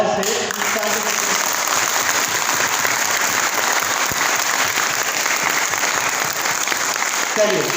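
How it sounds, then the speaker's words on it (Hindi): A seminar audience claps loudly and steadily together, a dense continuous wash of applause that carries on for several seconds before tapering at the end. "सो एक बहुत जोर से सब लोग एक ताली की आवाज से"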